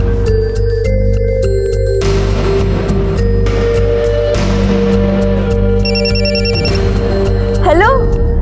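A landline telephone rings repeatedly in a home during a Hindi crime drama scene, a loud electronic trill with steady hum and a rising tone near the end.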